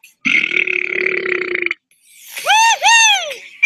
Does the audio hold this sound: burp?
yes